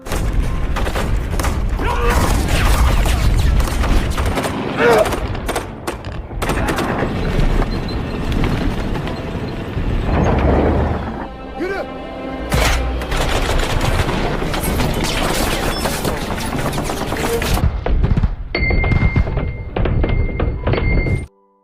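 Heavy gunfire and explosions from a battle scene against ISIS fighters in a mountain war film: dense bursts of automatic shots, booming blasts and thuds, loud and continuous with brief lulls.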